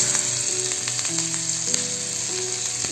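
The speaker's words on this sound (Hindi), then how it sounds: "कबाब को शैलो फ्राई करेंगे पैन में मैंने थोड़ा सा तेल गरम करने के लिए रख दिया है" Mutton shami kababs shallow-fry in a pan of hot oil, a loud, steady close sizzle with faint scrapes and taps throughout.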